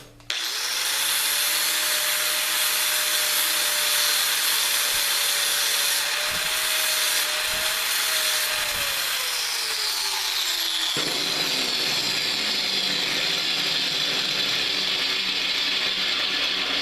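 An angle grinder runs steadily on steel, a loud continuous whine holding for about ten seconds before dropping in pitch as it spins down, with a few scraping contact bursts along the way.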